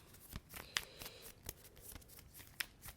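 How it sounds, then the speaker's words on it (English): Playing cards being shuffled during a Myth board game, in quick riffling bursts, light papery flicks and snaps scattered across a few seconds, close and fairly quiet. "I'm going to give them a quick shuffle"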